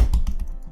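A computer mouse clicked in a quick run of sharp, dry taps, about six to eight clicks in under a second, close and fairly loud with no voices.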